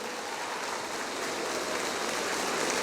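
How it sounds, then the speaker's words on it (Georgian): An audience at a competition festival in Kutaisi claps continuously, a dense, even wash of applause that holds steady from start to finish without any pauses. "მადლობა თქვენ და ტაში თქვენ შვილებს"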